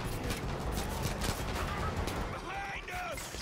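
Short bursts of gunfire crack repeatedly in the video game Far Cry 5, rapid shots in clusters amid a busy mix of game sounds, with a voice speaking over parts of the action.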